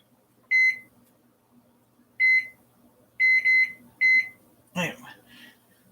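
A kitchen timer being set gives a series of short electronic beeps, single and paired, near and clear in a quiet kitchen, followed by a brief burst of talking.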